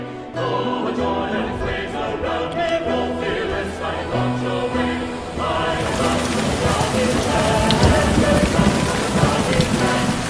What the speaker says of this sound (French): j'entends à l'horizon l'orage